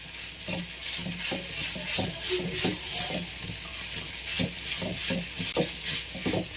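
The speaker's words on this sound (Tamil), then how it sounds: "பனீர் சேர்த்துட்டு லைட்டா ஒரு மிக்ஸ் கொடுத்தா போதும்" Paneer stirred in a frying pan for pizza, a steady close sizzle under repeated scraping, knocking strokes of a utensil against the pan, no voices.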